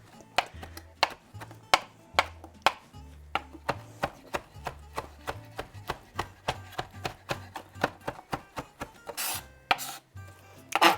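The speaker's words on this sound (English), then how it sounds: "And what you want to do with this is just chop these up." Smoky, slightly slimy chili peppers are chopped on a board for a vegan chili, about two dozen sharp knife strikes in an uneven rhythm, close and distinct, with a quick flurry near the end.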